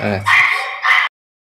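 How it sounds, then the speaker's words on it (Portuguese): A nervous dog close by lets out two sharp, high-pitched yelping barks in quick succession, the first coming just after a brief low voice. "O cachorro tá nervoso hoje."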